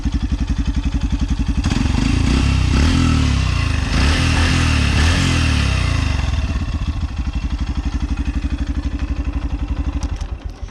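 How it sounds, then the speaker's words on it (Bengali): A Yamaha FZ-V3 motorcycle engine runs at a close, loud idle, its silencer exhaust thumping in a fast steady pulse, briefly revving before settling back down. "বাইকের যে সাইলেন্সার হলারের সাউন্ডটা আপনারা হয়তো শুনতে পাচ্ছেন।"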